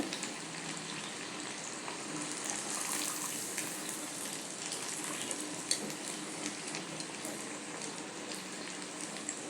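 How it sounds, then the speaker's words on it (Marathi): Poha bhaji, crispy flattened-rice fritters, fry in hot oil over medium heat, a soft continuous sizzle and bubbling crackle, fairly faint and steady throughout. "ही भजी जरा सोनेरी रंग येईपर्यंत असं व्यवस्थित आपण तळून घेऊया"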